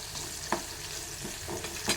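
Fenugreek leaves and crushed green chillies stir-frying in hot oil for a Karnataka menthya palya, a brief close sizzle with a few spatula scrapes, no voices.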